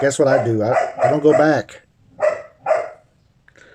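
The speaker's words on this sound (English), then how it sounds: "Sorry about the dog." Someone talks, then a dog just outside a window gives two sharp, fairly loud barks in quick succession.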